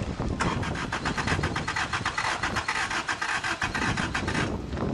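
A long-dead 1990 Honda Civic being cranked over on a farm, the starter churning in a steady loud rasping rhythm for several seconds without catching, close by and with no talk over it.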